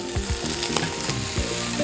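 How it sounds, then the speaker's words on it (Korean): Octopus fries in melted, bubbling butter in a preheated pan, giving a steady close sizzle broken by repeated clicks and scraping knocks, with no talking. "버터가 다 녹고 보글보글 끓기 시작하면 낙지를 넣어서 구워주세요"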